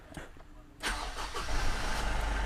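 A repossessed used car with about 51,000 kilometers, on a used-car lot in the Philippines, cranks briefly under a soft click before the engine fires and settles into a steady, close, moderately loud idle.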